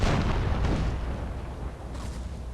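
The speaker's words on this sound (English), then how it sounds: "12 cannon firing." A battery of twelve cannons fires in the Empire Total War video game, a loud rumbling barrage of booms that rolls and fades, with a fresh burst near the end.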